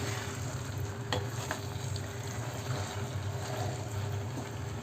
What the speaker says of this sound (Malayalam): നന്നായിട്ട് ഈ ചിക്കനിൽ മസാല മുഴുവൻ പിരളുന്നത് വരെ നമുക്ക് നന്നായിട്ട് ഇതൊന്ന് മിക്സ് ചെയ്തെടുക്കാം